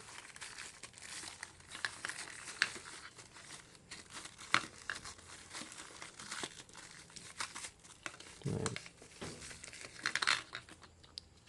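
Plastic packaging crinkles and tears in bursts while a package of anti-brownout materials is opened by hand. The rustling is fairly close and continues for several seconds with uneven rhythm, and no talk is heard.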